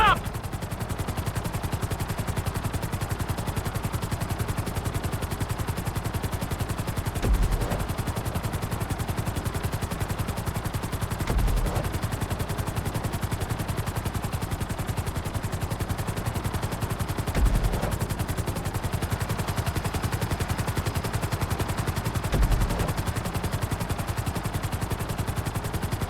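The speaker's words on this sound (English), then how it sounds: "Bring the helicopter down gently onto the helipad." A helicopter in GTA 5 flight school gives a steady, continuous rotor and engine drone that never lets up, with a few faint low thumps scattered through it.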